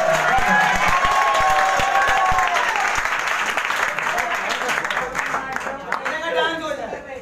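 Loud sustained applause with cheering from a school crowd at a Teacher's Day celebration, voices and shouts mixed in as the clapping gradually thins out.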